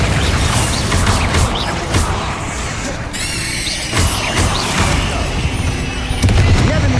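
Confringo and Incendio spell blasts from the Hogwarts Legacy video game: a loud, continuous barrage of booming, crackling explosions and bursts with debris crashes, dense and close throughout.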